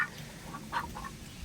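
Ducks quack a few times outdoors in the rain, faint to moderate, with short calls scattered over a steady background hiss of rainfall.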